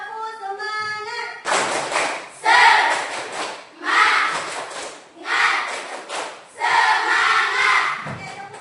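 A classroom of children does the 'tepuk semangat' rhythmic clapping routine, with five loud bursts of patterned hand claps and thumps separated by brief pauses and a short tonal sound before the first burst.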